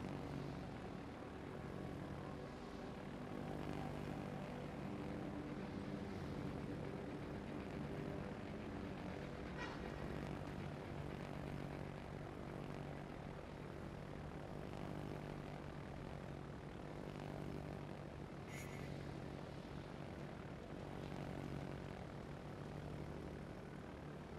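A fighter aircraft launches from a Soviet aircraft carrier in World of Warships. Its engine drones steadily and fairly loudly for the whole clip, with a broad propeller-like roar, and no one speaks.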